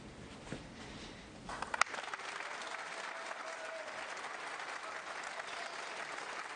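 A capacity snooker crowd at the Barbican breaks into sustained applause and cheering after a potted blue, loud steady clapping that swells after a sharp click and continues to the end.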